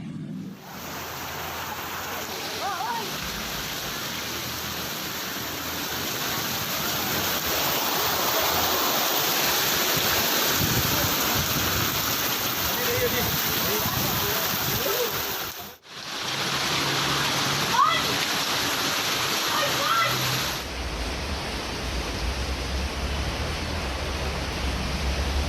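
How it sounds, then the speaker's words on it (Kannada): Heavy rain pours down with water rushing along a flooded street in Pulakeshinagar, Bengaluru, a dense, steady wash of noise that holds fairly constant, dips briefly partway through, then carries on with a deeper rumble. "ಪುಲಕೇಶಿ ನಗರದಲ್ಲೂ ಕೂಡ ಭಾರಿ ಪ್ರಮಾಣದಲ್ಲಿ ಮಳೆಯಾಗಿದೆ"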